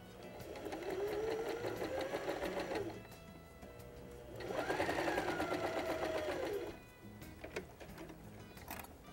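A sewing machine runs in two bursts, stitching a length of fabric while making a small accessory holder, its steady mechanical whirr stopping and starting again close by with no talking.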